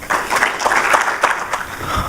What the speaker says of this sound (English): give another round of applause to all the speakers that came out